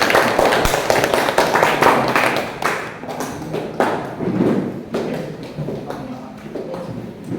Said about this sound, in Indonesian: Tepuk tangan untuk kelompok kinestetik